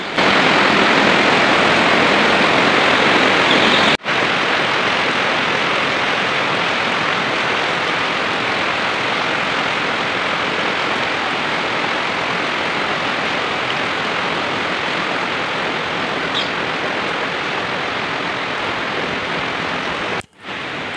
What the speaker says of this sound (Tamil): அந்த வீட்டு பால்கனியில் உட்காந்து அந்த மழையை என்ஜாய் பண்ணிகிட்டு இருந்தோம்.